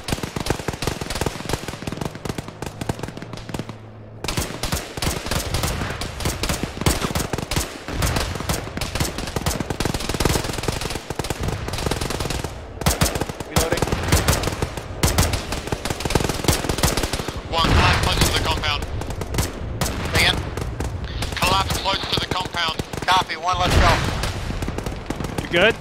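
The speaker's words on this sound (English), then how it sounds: "Yep, they're firing this way." Dense automatic gunfire from an Arma video game firefight rattles in long bursts with sharp single shots mixed in, loud and nearly continuous, while voices come and go underneath.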